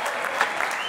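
Steady applause for a new head coach at a football fan talk event, a dense continuous patter of clapping from an indoor crowd, loud and unbroken for under a second.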